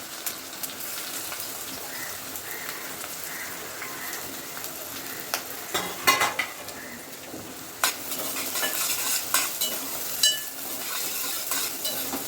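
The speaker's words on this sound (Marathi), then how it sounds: "आता मी कांदा टाकणार आहे. आणि त्याच्यावर कढीपत्ता टाकणार आहे. आणि कढीपत्ता नेहमी उडतो तेलावरती" Onion and curry leaves fry in hot oil for a quick vegetable pulao, a close continuous sizzle with a few spatters, and stirring scrapes and utensil clinks in the later seconds, with no speech.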